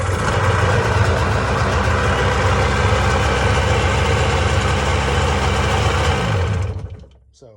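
An old two-stroke jet ski engine runs at a steady, loud idle with a buzzy drone, then cuts out near the end and fades to quiet.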